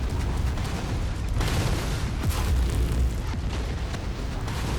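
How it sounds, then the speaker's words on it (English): Missile explosions in the video game MechWarrior 5, a dense rumbling roar of blasts with sharper bursts layered over a continuous low boom, loud and without speech. "Incoming missile."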